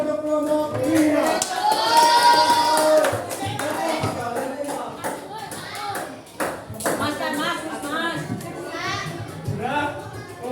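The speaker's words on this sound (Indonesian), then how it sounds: "Tepuk tangan untuk kelompok 5." A classroom of students claps for a presenting group, bursts of clapping mixed with lively children's chatter and voices throughout, fairly loud and close.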